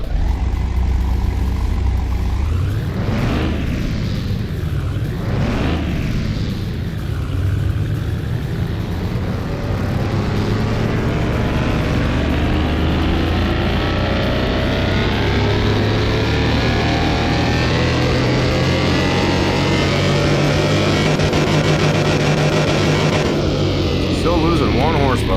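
Car engine revving hard on a dynamometer in Car Mechanic Simulator 2021, a loud sustained roar with rising and falling pitch sweeps early on, then a long steady high-rev drone that cuts off near the end.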